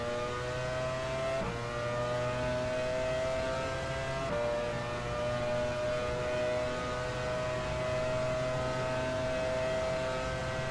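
A Ferrari Formula One car from the F1 Challenge 99-02 racing game, at the 1999 Italian Grand Prix, screams past with a sustained high-pitched engine whine, steady and loud, shifting gear twice as it laps.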